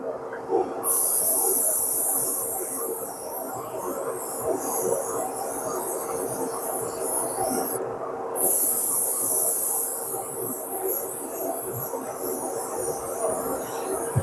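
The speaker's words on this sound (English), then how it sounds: "I'm actually coming in a little bit closer with the airbrush" An airbrush sprays clear blue paint onto a Corvette, giving a steady close hiss with two sharper, louder bursts as the spray is triggered.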